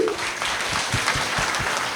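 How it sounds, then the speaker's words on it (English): A gathered congregation at a silver jubilee of religious profession claps for visiting priests and religious, a brief spell of mixed applause with some low murmuring underneath. "you want to clap for them?"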